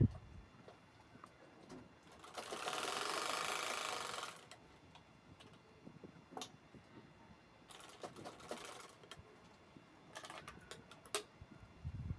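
A sewing machine stitches topstitching on a cloth shopping bag in quiet, close bursts: one long, loud run, then several shorter runs and light clicks.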